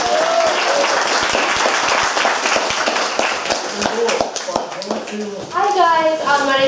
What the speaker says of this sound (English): So round of applause for Chloe.